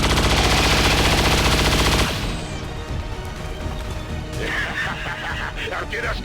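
Sustained rapid gunfire from XCOM 2: War of the Chosen, loud and dense for about two seconds, then cutting to quieter game ambience with scattered impacts and rattles.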